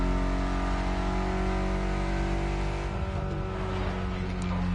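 Turbocharged Mitsubishi inline four-cylinder of about 280 horsepower, driven in The Crew Motorfest on Oahu, holds a steady, loud engine drone throughout with a slight shift in pitch near the end, and no talk.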